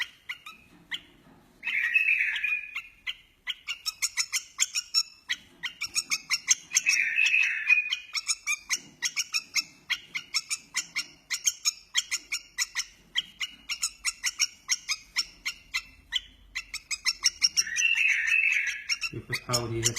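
Young bulbul chicks give rapid, repeated high chirps and tweets almost without pause, close and fairly loud, while being taught to pick up food on their own.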